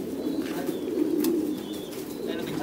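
Domestic pigeons coo together in a loft, a steady low murmuring chorus close by with faint flutters and soft chirps over it and no talking.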